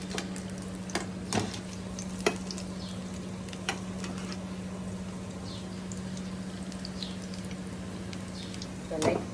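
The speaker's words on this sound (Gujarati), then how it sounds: "લાઈટ પિંક થઈ જાય ને ત્યાર સુધી તળવાના." Maize bhajiya frying in hot oil on a gas stove, a soft continuous sizzle with a steady hum and occasional clinks of a utensil, faint and close.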